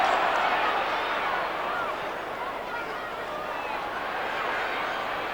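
Football crowd at an AFL match between Carlton and St Kilda in 1993, a steady broad roar of many voices with scattered shouts, continuous at moderate level without a break.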